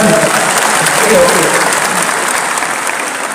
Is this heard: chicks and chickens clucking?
no